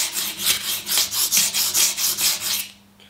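Spyderco Endura 4 folding knife blade being sharpened on a flat abrasive, about a dozen steady rhythmic rasping strokes close up, ending in quiet.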